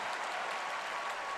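Crowd in a basketball arena at a women's college game reacting after a charge call, a broad sustained roar and cheer at moderate loudness, continuous over the short span.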